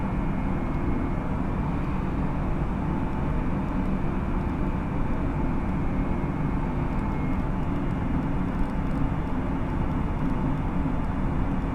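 An airliner's engines drone in cruise flight within a flight simulator game, a steady, loud, unbroken roar with no voices.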